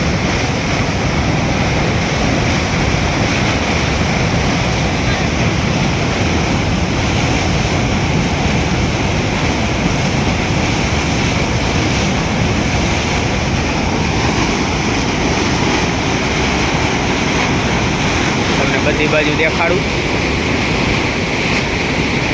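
Floodwater of the Machchhu river in Morbi, swollen after heavy rain, surges in a loud, continuous roaring wash with wind buffeting the microphone and a voice speaking briefly over it.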